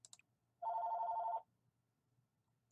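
A telephone rings once in a single electronic trill lasting under a second, moderately loud and close, set between brief clicks in an otherwise quiet room.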